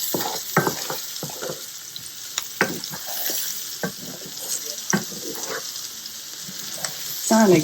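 Salmon and seasoned green beans cook together in a pan with a steady, moderate sizzle, joined by scattered clinks and stirring taps near the pan and a louder scrape at the end.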